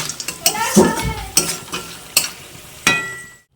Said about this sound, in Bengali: বেশ মচমচে করে ভেজে নিয়েছি।